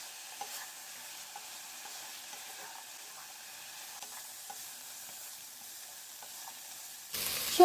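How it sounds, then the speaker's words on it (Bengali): Mixed vegetables for a coconut shukto fry in a pan over a low flame, giving a steady faint sizzle with light stirring ticks throughout and a louder rustle right at the end. "আবার একটু ফ্রাই করে নিচ্ছি।"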